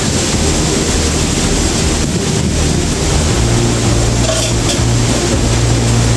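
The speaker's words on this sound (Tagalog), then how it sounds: "ang lakas ng hangin" Strong super typhoon wind from Typhoon Uwan roars continuously and close, buffeting the microphone with heavy gusts, while a low engine rumble hums underneath.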